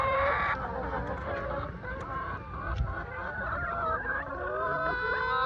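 A flock of laying hens clucks and squawks nearby during egg collection, a dense overlapping chorus of calls and rising cackles that continues steadily throughout.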